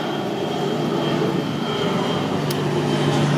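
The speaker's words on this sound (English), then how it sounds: "I live by a airport, so I'm letting the plane go by." A fixed-wing airplane passes overhead near an airport, its engine drone loud, steady and continuous for the full few seconds with no voices.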